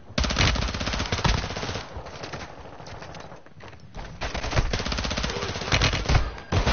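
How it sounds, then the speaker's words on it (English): Rapid, dense gunfire crackles in a Warzone match, with repeated loud bursts and heavy volleys that dip briefly in the middle and then resume, all close and harsh. "Oh my god! They shotgunned you."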